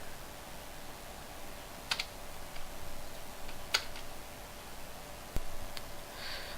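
A computer keyboard as a command is entered in a game development setup: a few sparse, quiet key clicks spaced out over a low steady background hum, with no talking.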